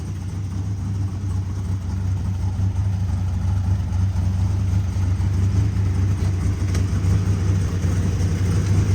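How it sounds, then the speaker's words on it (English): A 1970 Dodge Coronet R/T convertible sits idling with a steady, deep rumbling exhaust drone that holds an even, unbroken pitch close by, with no revs or pauses. "Fires right up. Idles beautifully."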